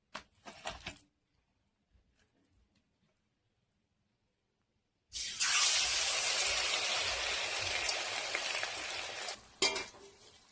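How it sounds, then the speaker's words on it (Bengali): Leaves hit hot oil in a pan and burst into a loud, dense sizzle that holds for several seconds, following a brief clatter and near silence. "আর এখন পাতাটা ভেজে নিব।"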